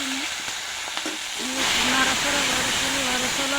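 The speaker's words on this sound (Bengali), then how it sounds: "তেল গরম হয়ে গেছে আর তেজপাতা রসুন কাটা মরিচ করে দিয়ে দিয়ে" Bay leaf, chopped garlic and chili hit hot beef fat in a pan, giving a steady broadband sizzle that swells louder partway through, with a voice talking intermittently over it.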